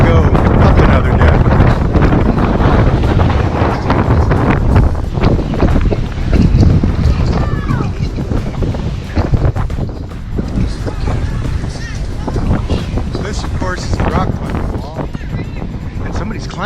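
Strong wind roars steadily across the upper open deck of the Norwegian Gem cruise ship near the jogging track, buffeting the microphone with loud, continuous gusts throughout.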